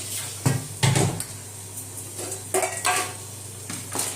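Onions sautéing in a pot for biryani, the spoon knocking and scraping against the metal in a few sharp clatters with quieter stirring between, close by, with no voices.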